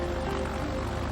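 A small airplane drones steadily in a film scene, a continuous engine hum with no voices over it.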